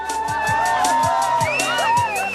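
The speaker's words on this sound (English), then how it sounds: "the other teams come out to cheer the last place team over the line" Members of rival Camel Trophy teams in Mongolia cheer as the last-place team crosses the finish line: a lively crowd of whoops and shouts with rhythmic clapping or stamping, close and continuous.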